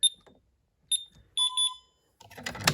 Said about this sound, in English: So I'll just arm it and away.